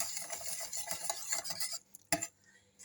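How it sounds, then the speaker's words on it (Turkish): White chocolate is stirred into profiterole cream, making soft, quiet scraping strokes in a pan that stop near the end, followed by one brief clink. "Tekrar karıştırıyorum."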